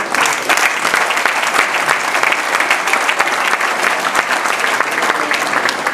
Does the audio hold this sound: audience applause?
yes